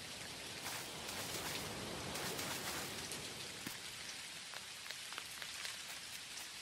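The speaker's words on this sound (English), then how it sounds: "Rainy, night weather." Steady rain falls at night in the video game Dinkum, a dense continuous hiss with scattered sharper droplet ticks throughout, no voices.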